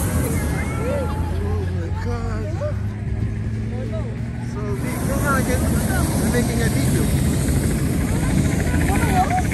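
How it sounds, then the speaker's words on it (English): A helicopter passes overhead at a hot air balloon festival, its rotor drone a steady rumble beneath chatter and crowd noise, growing somewhat louder toward the end. "there's a helicopter, Lana."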